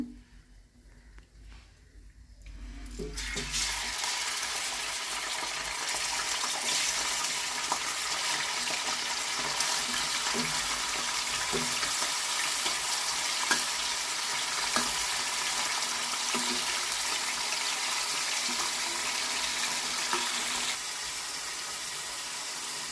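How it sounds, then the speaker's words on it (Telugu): Prawns dropped into a hot pan of oil, a sudden burst into a loud, steady close sizzle and crackle that continues for about twenty seconds, easing slightly near the end, with no talk. "ఇప్పుడు ఇందులో ఈ రొయ్యలు వేసేస్తున్నాను."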